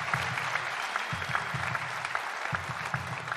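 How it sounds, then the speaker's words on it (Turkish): Studio audience applause on a Turkish Popstar singing competition, a steady, dense wash of clapping throughout with a low rhythmic thump underneath. "Lütfen ikisine de büyük bir alkış rica ediyorum."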